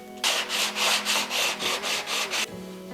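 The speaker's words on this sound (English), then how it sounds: "I'm going to sand it in between, wipe it down and do another coat" A sealed wooden herringbone tray is sanded by hand with about nine even back-and-forth strokes, a rhythmic close rasping swish that stops abruptly, with no talking.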